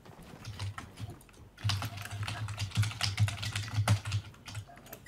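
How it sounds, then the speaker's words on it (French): Fast, hard typing on a computer keyboard during a Fortnite session, dense rapid key clatter after a short pause, with no voices over it. "Tu tortures ton clavier"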